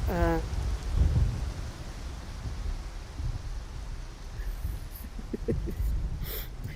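Steady rainfall hisses through a Skyrim VR scene, with deep rumbling surges at the start and again later, a brief tonal sound near the beginning and faint short bursts toward the end, all at moderate to low level.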